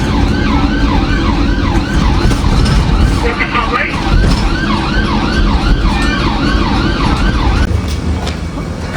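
A wailing emergency siren, sounding like an ambulance, cycles up and down repeatedly over loud road traffic and engine rumble in a busy street setting.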